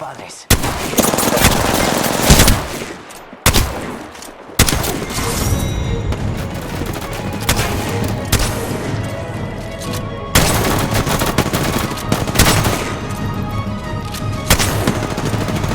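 Rapid bursts of automatic weapon fire from the battle royale shooter Apex Legends, loud and near, with dense volleys, brief pauses and booms, mixed with game effects throughout.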